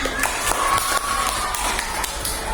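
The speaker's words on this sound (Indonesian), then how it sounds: "Berikan tepuk tangannya, anak" A classroom of students claps for classmates, a light, uneven patter of hands at moderate distance that continues steadily for a few seconds with no talk over it.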